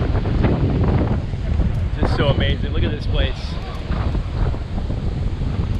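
Wind buffets the microphone on the Palm Beach coast by the Breakers Hotel, a loud, rough rush that persists throughout, with someone speaking over it.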